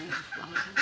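A duck quacks several times in quick succession, nearby and fairly loud, during a traditional Assamese Bhogali festival gathering.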